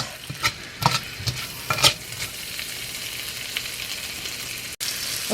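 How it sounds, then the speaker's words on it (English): Pork stir fry ingredients tossed in a hot pan, with scraping stir strokes and a steady light sizzle running underneath, close by and moderately loud, with no voices. "I'm just going to stir fry them for a couple minutes."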